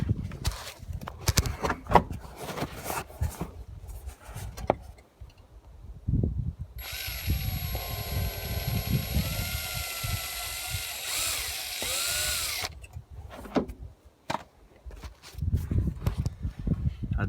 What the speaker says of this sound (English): I'm going to have to set the phone down to drill it.